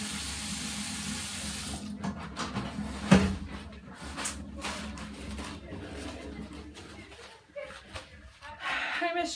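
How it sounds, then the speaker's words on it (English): Hands being washed with soap under a running tap at a sink in a clinical exam setting, a steady water rush that eases off partway, with a clunk near the start and talk alongside. "I'm going to wash my hands with the appropriate soap."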